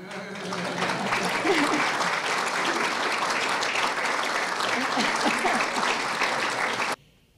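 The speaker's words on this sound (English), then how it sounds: "you can applaud if you want" Sustained applause from a large crowd, steady and loud for about seven seconds, then cutting off abruptly.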